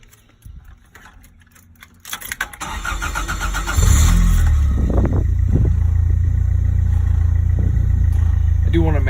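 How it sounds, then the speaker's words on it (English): Old Toyota AE86 Corolla with a new flywheel, clutch, transmission and freshened drive shaft starts up after some clicks and handling noise, then settles into a loud, steady close-up engine drone with a voice speaking briefly over it. "let's see if a new flywheel, new clutch, fresh transmission, and a nice freshened drive shaft make this old Corolla feel new again"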